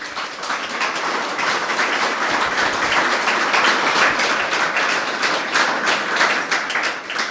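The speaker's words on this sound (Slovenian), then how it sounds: "predlagam topel aplavz za vse navedene" Warm applause from the audience at a municipal ceremony in Ravne na Koroškem, dense steady clapping from many hands filling the hall throughout.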